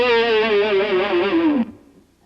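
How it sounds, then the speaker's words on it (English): A single electric guitar note is wiggled with vibrato while the whammy bar bends it steadily downward in pitch. It is loud and close and cuts off abruptly after about a second and a half. "wiggling the note down here with this finger, but bending the bar down, which gives it that one effect"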